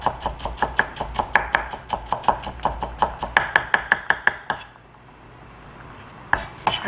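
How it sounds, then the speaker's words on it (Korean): A knife rapidly mincing julienned onion on a cutting board, with quick, crisp, evenly paced chops, a brief pause, then a few more strokes. "채 썬 양파는 다집니다"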